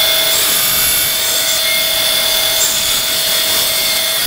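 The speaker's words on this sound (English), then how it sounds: "I have my blanks down to size since we just cut them at the bandsaw." A steady, loud whine of a bandsaw cutting resin and wood pen blanks, with a constant high tone and hiss throughout and no pauses.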